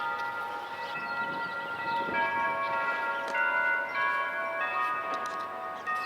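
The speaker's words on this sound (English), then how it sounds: "These are the church bells of the church I just showed you." Church bells in Harrisburg, Pennsylvania ring out on a sunny Easter Sunday afternoon, steady overlapping tones sustaining and layering at moderate distance with no talk.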